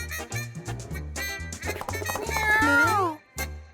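A cartoon kitten in a Paw Patrol toy story meows in short voiced cries, stacked with character voices talking and a repeated low musical thump underneath.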